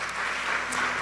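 Church congregation clapping, a brief burst of dense applause at moderate level with a faint voice underneath.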